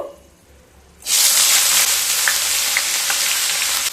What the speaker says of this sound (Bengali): সেই সময় কেটে রাখা 2টো মিডিয়াম সাইজের পেঁয়াজ দিয়ে দেব